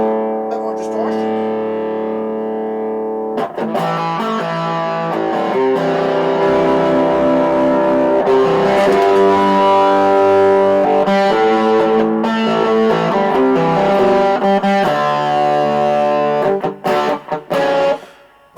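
Distorted electric guitar with a P90 pickup played through a Washburn SX3 amp, sustained gritty chords and notes ringing loud and close for most of the stretch, with brief pauses between phrases.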